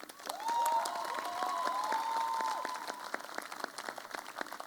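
Engineering students in an audience clapping, a burst of applause with scattered cheering that swells, holds for a few seconds and then thins into individual claps, with some faint voices mixed in.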